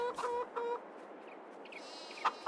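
Chickens in the farming video game Farming Simulator 22 give two short rhythmic clucking bursts near the start, followed by softer scattered clucks and one brief sharp call near the end, with no talk.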